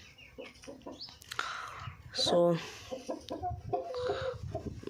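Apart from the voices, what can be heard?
chickens clucking in a chicken coop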